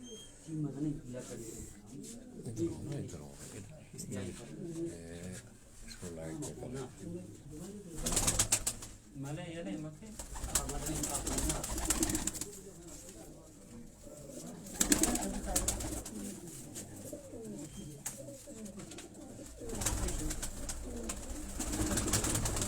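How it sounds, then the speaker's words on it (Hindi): Kasuri pigeons coo on a rooftop, soft repeated throaty coos rising and falling, with people talking over and between them. "ये कसूरी कबूतर है, कमगर ब्रीड में ये कबूतर आप देख रहे हैं"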